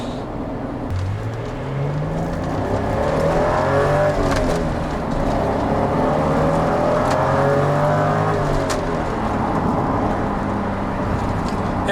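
A Toyota Supra JZA80 with a naturally aspirated 2JZ engine accelerates through short gears, its engine note rising steadily in pitch, dipping at shifts and climbing again, loud and close throughout.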